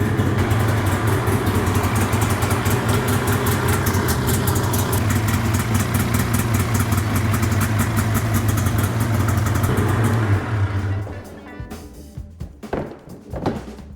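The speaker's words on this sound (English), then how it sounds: "with the new exhaust on, I say we give her a little start real quick here" A snowmobile engine idles steadily with a newly fitted exhaust, a loud low rumble running continuously for about ten seconds before cutting off, followed by a few scattered knocks and handling noises.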